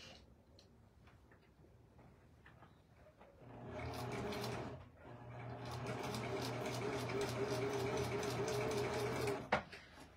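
A sewing machine stitches a puppet's shirt in a close, steady mechanical whir with a fast rhythmic ticking, running in two bursts with a brief pause between, after quieter handling sounds.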